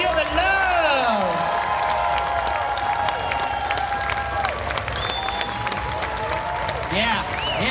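Comic convention crowd at a Greater Austin Comic Con panel cheering and clapping for Billy Dee Williams, sustained applause with whoops and excited shouting throughout.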